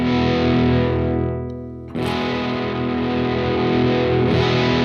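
An electric guitar played through a UAFX Enigmatic '82 amp pedal with overdrive rings out in thick, distorted sustained chords, fading briefly before a fresh loud strum that holds to the end.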